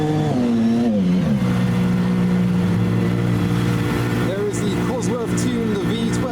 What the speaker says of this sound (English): Tuned V12 in the middle of the T50.